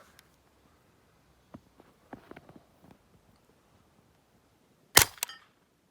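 A single sharp, loud rifle shot from a reloaded round fired at a steel swinger target buried in snow, ringing out after a few faint clicks and handling noises in an otherwise quiet outdoor setting.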